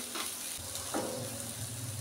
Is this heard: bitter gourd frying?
yes